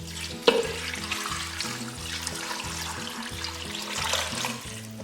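Water pours into a pot of chicken bones and cut onions for homemade bone broth, a steady splashing, trickling stream close by that runs continuously after a brief sharp clink at the start, with low tonal music underneath.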